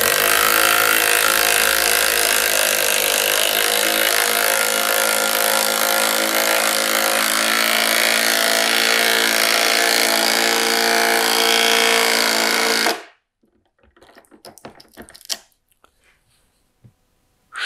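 A Milwaukee M12 CIW12 subcompact 1/2-inch impact wrench drives a screw across the grain into wood, hammering continuously and very loudly for about thirteen seconds before stopping abruptly, followed by a few faint handling knocks.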